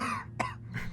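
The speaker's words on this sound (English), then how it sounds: "Your coughing is a confession." A single sharp cough bursts out near the middle, with a softer throat-clearing sound just after, both close and short over a low background hum.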